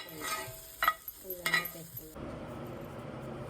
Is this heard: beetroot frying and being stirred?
yes